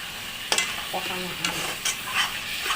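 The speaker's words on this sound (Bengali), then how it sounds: "আর একটু কষাতে হবে" Prawn dopiaza with onions and turmeric being sautéed in a pan, a close sizzle broken by several sharp scrapes and stirring knocks of the spatula.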